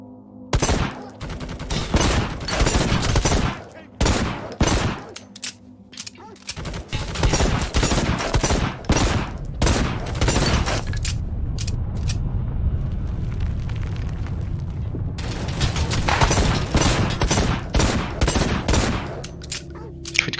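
Gunfire in the video game Necromunda: Hired Gun, with bursts of rapid loud shots separated by short pauses, then sustained firing with a rumbling background, alone without talk.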